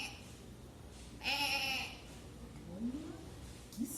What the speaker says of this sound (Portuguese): É a ovelha!